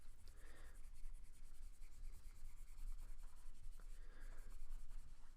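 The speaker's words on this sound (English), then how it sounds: "I'm actually going to erase part of my work right here." A board eraser rubs across a whiteboard, clearing part of handwritten math work in a continuous scratchy swish with a few stronger strokes, faint and close with no talking.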